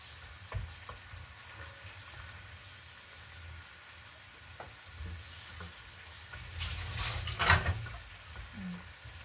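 String beans and okra being stirred in a pan for pakbet, a low sizzle with occasional scrapes and clatters of a utensil, swelling into a louder burst of frying near the end.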